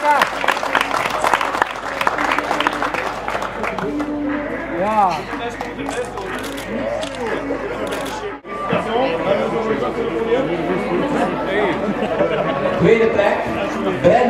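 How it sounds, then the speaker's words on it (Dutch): Crowd applause at a women's youth cycling race podium ceremony in Erpe-Mere, steady clapping running throughout with a brief dip midway, mixed with crowd chatter. "En we mogen natuurlijk alle drie nog een applaus geven."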